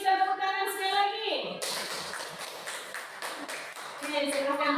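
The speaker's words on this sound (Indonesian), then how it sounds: "Kita beri tepuk tangan sekali lagi." Children in an elementary school classroom clap their hands together in a burst of brisk claps lasting a couple of seconds, with a teacher's voice speaking just before and after.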